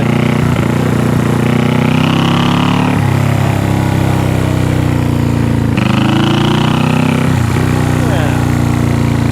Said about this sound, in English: Those little exhausts sound pretty good.